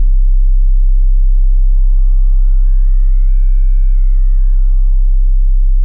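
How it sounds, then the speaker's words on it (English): A steady sine tone from the Logic Pro X EFM1 FM synthesizer holds low, then sweeps smoothly up into a bright, modulated pitch as a modulator feeds the carrier, and glides back down, continuous and loud. "start modulating this sine wave by feeding its signal into the sine wave over here in the carrier section"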